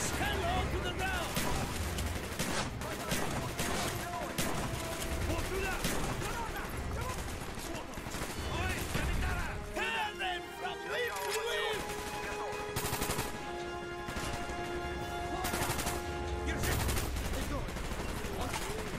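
Gunfire in the video game Call of Duty: Black Ops, sustained loud automatic bursts and shots mixed with game music and shouted voices throughout, barely letting up.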